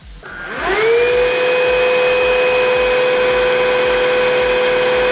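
A Bobot Deep 832 wet-dry vacuum spins up with a rising whine, then runs at a steady loud drone of around 70 decibels with a high tonal hum.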